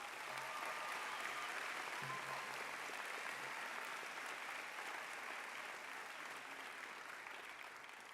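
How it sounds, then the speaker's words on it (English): A commencement crowd applauds a graduate, a broad, even roar of many hands clapping that holds at a steady level for eight seconds and eases off slightly at the end. "Will you give Sarah one more round of applause?"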